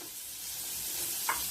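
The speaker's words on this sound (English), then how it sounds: "Butter starts melting." Butter heating in a pan gives a soft, continuous sizzle with a faint crackle, steady and low throughout, with one brief tap near the end.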